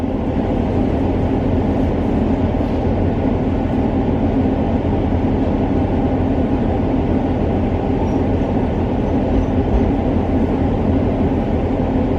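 A Class 150 train rumbles past continuously at Crediton station, a steady loud low roar of engine and wheels on track, close by, with no voices.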